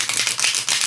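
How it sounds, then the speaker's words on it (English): Thin to medium weight cards from an I Ching divination deck being riffle shuffled by hand: a dense, bright, continuous fluttering rattle, close and loud, with brief dips in the short burst. "And they do shuffle nicely since they're thin."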